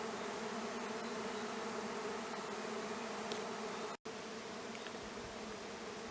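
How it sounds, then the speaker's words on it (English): A large hatch of honey bees buzzes around a garden hive outdoors, a dense, steady drone of many wings filling the air continuously, with one brief dropout near the end. "we're having a huge hatch of bees in the garden hive"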